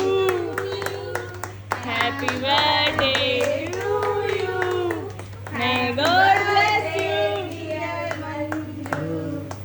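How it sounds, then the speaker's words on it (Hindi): Hands clapping at a birthday celebration, light rhythmic claps mixed under a group singing the birthday song loudly over a steady low hum. "तालियां बजाइए।"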